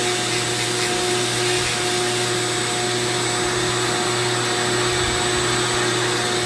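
Steady, close whine of a Dremel rotary tool running a burr into manzanita wood, carving facial hair on a wood spirit, continuous at constant speed with no talk.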